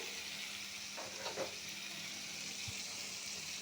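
Masala sautéing in a pan with salt added for a shrimp, turnip and potato curry, giving a steady close sizzle with a few brief stirring scrapes.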